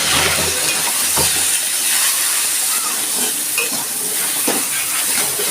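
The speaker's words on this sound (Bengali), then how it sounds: "পটলটাও একটু ভেজে তুলে নিচ্ছি।" Pointed gourd fries with salt and turmeric in a loud, close, dense sizzle and hiss that runs unbroken throughout, with faint stirring scrapes mixed in.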